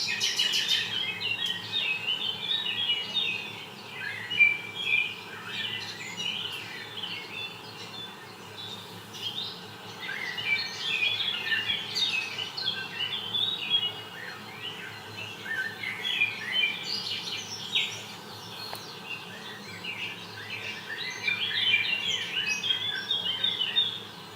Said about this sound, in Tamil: இதோ பாருங்கள், இது ஒரு பறவை.